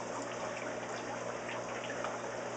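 Water pours steadily into a plastic fish shipment container, a continuous gushing, splashing rush that stays close and fairly loud throughout with no voices.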